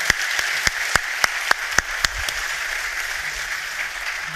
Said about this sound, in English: I would like to have a big applause for Tesca, Constantijn, Jean-François